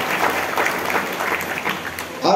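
A crowd at a Marathi jayanti celebration for Sant Shiromani Narhari Maharaj in Bhokardan gives sustained, energetic applause, a dense wash of clapping from many people with some voices mixed in underneath.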